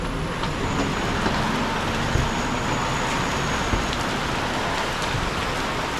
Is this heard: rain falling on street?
yes